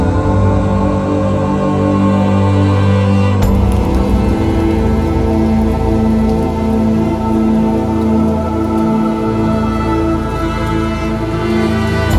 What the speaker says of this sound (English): I'm starting to feel some raindrops.